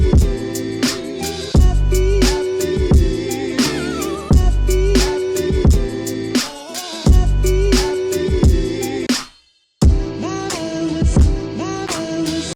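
Hip-hop beat built from an original sample layered with pitched-up sample chops, with punchy kicks, snares and melodic stabs looping steadily, dropping out briefly near the end before resuming.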